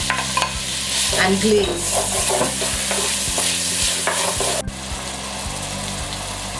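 Onions sauté in a pan for Cameroonian garden egg stew, a loud continuous sizzle with spoon stirring and scraping, and a brief spoken phrase at the start.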